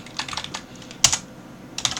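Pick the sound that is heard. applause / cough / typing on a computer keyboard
typing on a computer keyboard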